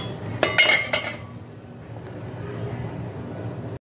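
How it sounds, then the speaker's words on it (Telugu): A hot, golden-brown buttered mayo sandwich is set down from the stove onto a plate, giving a brief burst of clinks and scraping around the first second, then only quiet kitchen room tone. "ఇప్పుడు స్టవ్ ఆపేసుకుందాం అంతే. ఇప్పుడు ప్లేట్లో వేసేసుకుంటాం అంతే."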